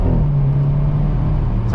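A Hyundai Veloster N with a dual-clutch transmission accelerates hard with its tires spinning, giving a loud, continuous engine roar with a steady low drone heard from inside the car.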